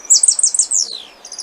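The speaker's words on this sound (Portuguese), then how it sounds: "É canto de passarinho captado na natureza. Então, esse é o chupim." Wild shiny cowbird (chupim) singing outdoors: a loud, close sequence of high, bright whistled chirps sliding downward, a brief pause, then a few more high notes.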